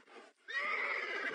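A horse neighs once in an animated cartoon, a short, shrill whinny rising after a brief soft snort, fairly close and alone.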